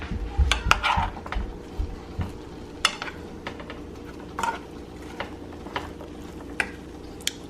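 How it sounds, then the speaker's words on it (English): Seasoned chickpeas being stirred in a pan for a plant-based Buddha bowl, with a spoon scraping and tapping against the metal in sharp, irregular clicks over a low background sizzle as the liquid cooks off. "just move that seasoning stuff around the chickpeas, and that'll help to dry up some of that liquid"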